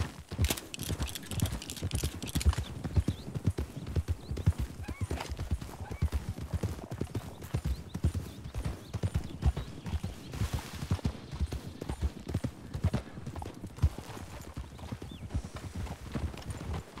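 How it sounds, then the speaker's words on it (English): Horse hooves clip-clop steadily in a western video game, with a horse whinnying near the start, the rhythmic hoofbeats running close and continuous throughout. "Hey, there's a horse down there."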